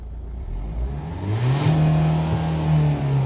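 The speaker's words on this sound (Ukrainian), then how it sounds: "Спробуємо погазувати." A 2016 Renault Grand Scenic 3 with a 1.5-litre diesel engine revs up from idle, its note climbing and then holding at higher revs, close and loud with no talk.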